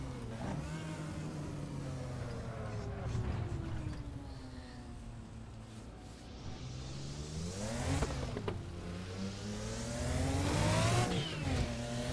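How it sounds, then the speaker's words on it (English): Race car engine from the Assetto Corsa DRM Revival mod video game revs up and down repeatedly, rising and falling in pitch through gear changes, steady and fairly close without speech. "This might be the worst sounding car of the entire bunch."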